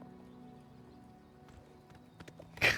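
Faint, close hoofbeats clip-clop as a horse is ridden over mountain terrain in the video game Oblivion, closing with a louder burst of sound.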